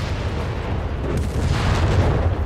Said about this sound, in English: Sturm there providing light artillery support